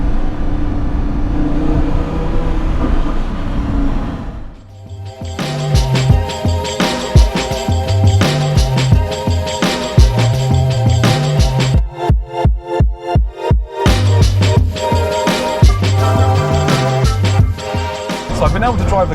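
A 2016 Lamborghini Huracan engine roars loudly while driving, rising through the revs with rapid gear shifts that cut the sound in sharp, repeated bursts, following a quieter cabin start.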